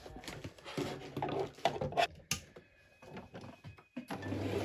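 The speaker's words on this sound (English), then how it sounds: "We're just going to overlock this now, the raw edge." An overlocker serging the raw fabric edge of a tiered maxi skirt, running in uneven bursts of mechanical stitching that start, stop and restart at close range.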